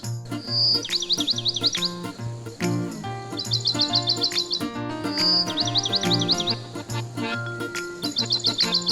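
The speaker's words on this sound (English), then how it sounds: "Kingfisher." Kingfisher calls ring out as repeated rapid trilling bursts, several chirping phrases in a row over a looping musical backing.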